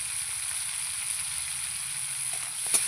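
Shrimp fry in a pan with salt and turmeric, a faint steady sizzle with soft hissing and a brief clink of stirring near the end.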